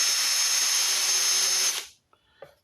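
A power drill bores into aluminum with a loud, steady high-pitched whine for nearly two seconds, then winds down to silence, followed by a couple of small clicks and taps.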